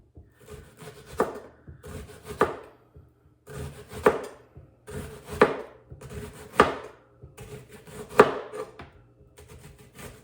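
A knife chops a juicy red onion on a board in repeated bursts of quick, close, crisp cuts, about eight clusters spaced roughly a second apart, with quiet pauses between and no voices.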